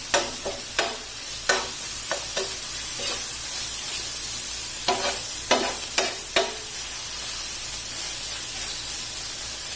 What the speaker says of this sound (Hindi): अब इसे मीडियम फ्लेम पर 1 से 2 मिनट तक भून लेना है।